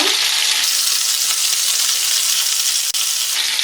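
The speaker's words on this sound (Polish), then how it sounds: "Do obsmażonych roladek wrzucam teraz cebulę" Onion tossed into a pan of browned chicken roulades sizzles loudly and steadily, a dense close frying hiss that stays even throughout, with no talking.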